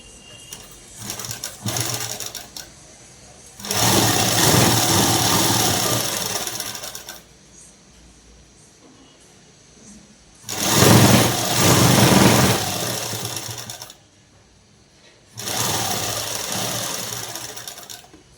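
A sewing machine stitches cloth for a night dress in three loud, sustained bursts of running motor whir, separated by quieter pauses with faint handling sounds.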